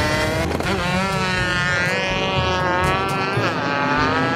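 A racing motorbike in an Upin & Ipin cartoon screams past with a loud, sustained high-revving engine whine that rises and shifts in pitch, steady and close throughout.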